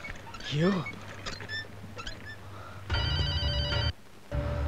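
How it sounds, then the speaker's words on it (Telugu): An electronic telephone rings in a Telugu film scene, with one loud trill lasting about a second after scattered scene noises and faint voices. "Okay Dilip, phone for you."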